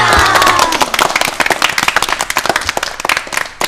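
Children in the audience of an environmental awareness kids' program clap together, a burst of loud, sharp, rhythmic claps close by that continues steadily for a few seconds.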